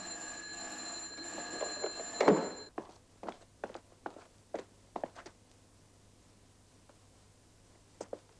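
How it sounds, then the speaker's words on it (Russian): A security alarm on a shed goes off as a harsh electric bell ringing for about two and a half seconds, then cuts out, followed by scattered footsteps and light thuds in a quiet space. "Сигнализация сработала."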